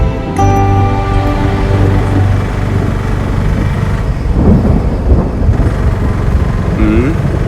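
Rolling thunder rumbles low and steady before rain, a continuous heavy wash with faint tonal hum at the start and a few brief voice-like sounds near the end.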